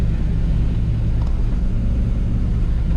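A muddy tractor shreds cornstalks in a field, giving a loud, constant low engine rumble and droning machinery noise from close by, steady throughout with no voices.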